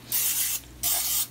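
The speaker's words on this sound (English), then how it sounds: "We're just gonna go ahead and put some non-sticking oil in them" Non-stick cooking oil sprayed into baking pans: two close, loud hissing bursts of about half a second each, separated by a short pause.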